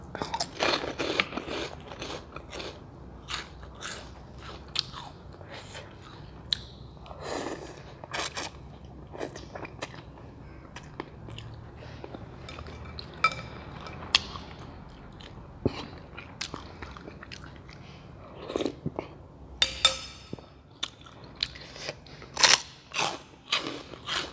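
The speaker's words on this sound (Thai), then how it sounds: "แคบหมูกรอบ" Crispy pork rinds eaten beside a bowl of stewed pork noodle soup with yellow egg noodles and fried garlic, giving repeated loud close crunching bites and chewing in irregular bursts, with pauses between.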